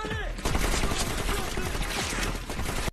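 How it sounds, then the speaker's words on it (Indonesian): Dense, loud bursts of rapid gunfire crackle continuously for a few seconds, with no pauses, then cut off abruptly. "Pasukan Spetnas terus mengejar dan menembaki Dalton"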